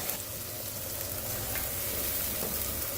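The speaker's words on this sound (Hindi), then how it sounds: "ये देखिए इसको ना मसाले को अच्छी तरह भून देंगे।" Spice masala fries in a pan for a radish and spinach sabzi, giving a steady, close crackling sizzle that runs evenly throughout with no talking.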